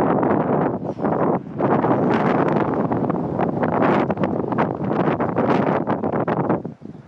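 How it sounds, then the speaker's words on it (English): Heavy wind buffeting the microphone in Tataouine, Tunisia, a loud continuous rumbling roar with gusty surges and no voices. "Probably can't even hear me because it's all windy."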